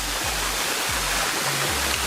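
A waterfall beside a walkway roars with a steady, dense rush of water, close and loud, with no voices over it.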